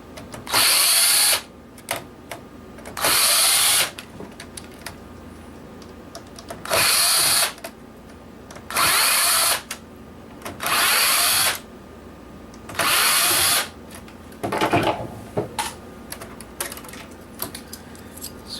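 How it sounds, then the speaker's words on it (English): A power screwdriver backs screws out of a broken PS3 console in short whirring bursts, about seven runs of a second or so each, separated by quiet pauses with small clicks and handling noise, close up. "So let's remove some of these screws."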